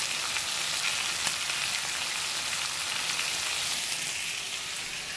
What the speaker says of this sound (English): Okay, the bacon cooking.